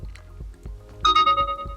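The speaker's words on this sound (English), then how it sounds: "You get an obnoxiously loud notification" A loud ringtone-like notification chime from an Emporia Smart 6 phone as screen recording starts, ringing out sharply after a few softer rhythmic tones, with no talking.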